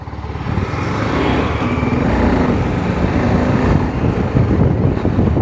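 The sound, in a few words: TVS Apache RR310 sports motorcycle riding in fourth gear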